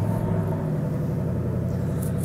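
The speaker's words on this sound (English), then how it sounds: "Let's go ahead and turn the car on to hear that exhaust." A steady, deep exhaust idle from a 2021 Ford Mustang GT Premium rumbles continuously with low, even pulsing, close and moderately loud, with no voices.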